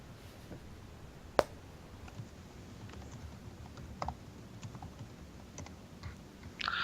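Someone types on a computer keyboard with one hand, producing faint, sparse, irregular key clicks with one sharper tap and a few small clusters against a quiet background.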